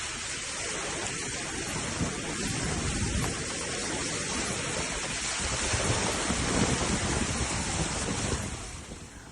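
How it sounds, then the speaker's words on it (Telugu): Heavy, continuous rain from Cyclone Fengal pours down with a dense, roaring wash and wind buffeting, loud and unbroken before easing slightly at the end. "చిట్టమూరులో ఎడతెరిపి లేకుండా వర్షాలు కురుస్తున్నాయి"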